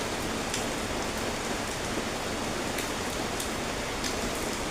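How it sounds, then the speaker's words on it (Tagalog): Steady, heavy rain pours down in Palawan in a dense, continuous hiss, with no voices and no letup throughout. "Grabe ang ulan sa Palawan,"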